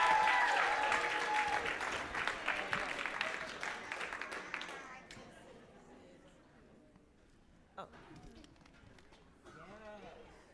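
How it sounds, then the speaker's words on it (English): An audience at a women's leadership celebration conference applauds a performer: dense, loud clapping at first that thins and fades over several seconds, leaving sparse claps and a voice beginning to speak near the end. "Give her a round of applause, ladies and gentlemen."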